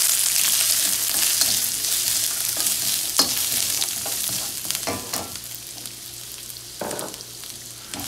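Onion sizzles steadily in a hot frying pan for a chicken chop suey, a constant hiss of frying broken by a few scraping stirs of the spoon, with no talking.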